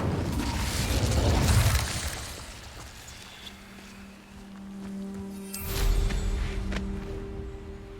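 Incendio, a fire spell, is cast in Hogwarts Legacy with a whooshing flare of flame at the start, a quieter lull with a steady hum, then a second roaring burst of fire.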